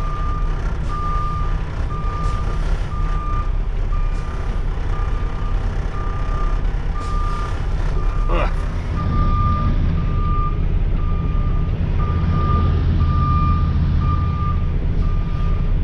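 A semi truck reversing at night to dock its trailer, with evenly repeating backup beeps over a loud continuous diesel engine rumble and a brief air hiss midway.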